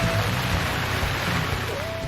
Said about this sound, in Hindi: लाहौर में काली घटाएं आईं और छा गई मूसलाधार बारिश ने जल थल एक कर दिया।